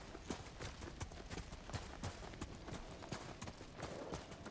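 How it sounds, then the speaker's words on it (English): In the Ghost of Tsushima video game, a horse's hooves clip-clop in a quick, steady rhythm of sharp distinct strikes over a low background bed, moderately close and unbroken throughout. "Machu's horse arrives, but not mine"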